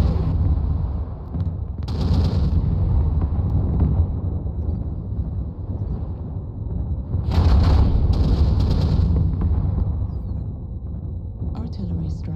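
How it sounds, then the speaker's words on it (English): Artillery strike explosions in the video game Ace of Spades boom in heavy low rumbles, with a few bursts standing out over continuous dense rumbling and a steady roar of battle. "Artillery strike activated."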